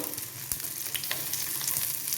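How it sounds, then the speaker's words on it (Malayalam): Sliced onion hits hot oil in a pan for vegetable stew, giving a dense, steady close sizzle with a few scrape-like bumps and crackles throughout, no voices. "ഉള്ളി ഇട്ട് കൊടുത്തു"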